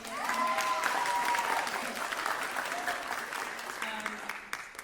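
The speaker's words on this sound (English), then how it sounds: "Let's give you a round of applause too." An audience applauds a Pansori performer named Sangha at a Future Sound event, a moderate wash of clapping with voices talking over it.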